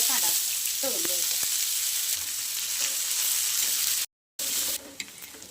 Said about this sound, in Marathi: तेलात कांदा तळून घ्यायचा बरं का, मस्त लाल होईपर्यंत कांदा तळून घ्यायचा.